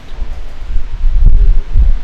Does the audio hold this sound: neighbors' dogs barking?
no